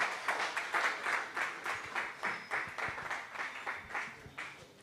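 A conference audience claps in welcome for a presenter, a dense, fairly quiet round of applause from many hands that swells in uneven waves and carries on steadily without speech.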